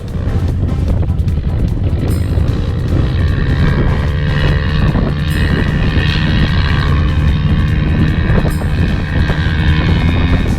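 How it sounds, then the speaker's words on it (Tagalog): A loud, continuous motorcycle engine drone with uneven revving and rattling as the engine sputters and struggles on a trail, close and harsh, with no clear voices. "Nako, nagburubok ang motor."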